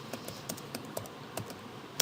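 Someone types on a computer keyboard in quick, irregular soft clicks, close and quiet, with one sharper keystroke at the end.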